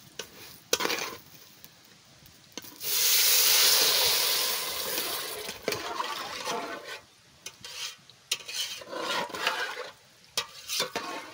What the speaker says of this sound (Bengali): জল দিয়ে দিচ্ছি, চালটা ভাজা হয়ে গেছে।